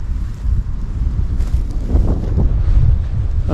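Strong wind buffets the microphone on a countryside walk near Houghton village in West Sussex, a loud continuous low rumble with gusty swells and no voices.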